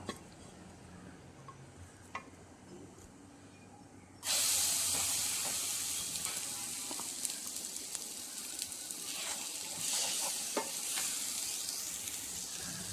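Mango pulp hits hot ghee at about four seconds, bursting into a loud, steady sizzle with scraping stirs through the rest; before that only quiet background and faint clinks.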